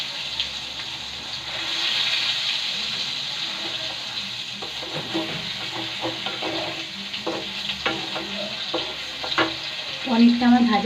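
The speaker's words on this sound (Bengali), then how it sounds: "তো চলো এখন আমি পনিরটাকে একটু ভেজে নিই পিট পিট করে লাল লাল করে।" Paneer seasoned with salt and turmeric fries in a pan, giving a steady hiss of hot oil with scattered pops and spatters, near and growing louder toward the end, with occasional clinks of stirring.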